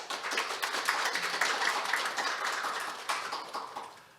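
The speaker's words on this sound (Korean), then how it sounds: "패널분들과 진행을 맡아주시는 허균영 부단장님께 큰 박수 부탁드리겠습니다" An audience applauds the panelists and moderator at a university industry-academia forum, producing a quiet, even patter of many hands that continues for a few seconds.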